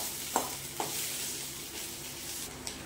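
Rice sizzles steadily as it is stir-fried in a hot pan, with a few sharp scrapes of the spatula standing out over the continuous frying hiss.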